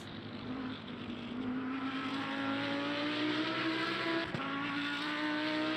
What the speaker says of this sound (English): That's what the Audi sounds like. It's the same engine that's in the Audi. It's loud.